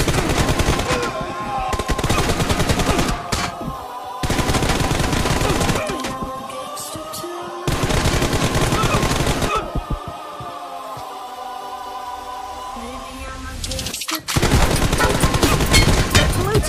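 Long bursts of automatic gunfire in a shooter video game, loud and sustained, breaking off into short gaps and then resuming several times.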